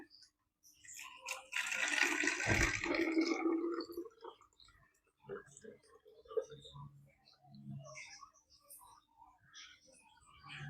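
Radiator coolant drained from a Vario 125 scooter being poured into a bottle: a few seconds of close, gurgling liquid splashing and trickling, then quieter scattered sounds with someone speaking intermittently.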